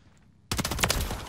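Rapid automatic fire from an HRM-9 submachine gun in Call of Duty: Modern Warfare III, a loud burst that cuts in sharply after a quiet moment and keeps rattling steadily to the end.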